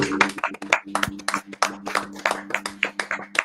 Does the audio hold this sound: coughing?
no